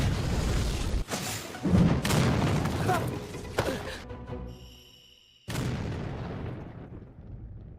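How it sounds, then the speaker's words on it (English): Heavy booming anime explosion sound effects rumble one after another, fading into a brief lull before another loud explosion hits. "The random explosions are just another reason to not take this anime seriously"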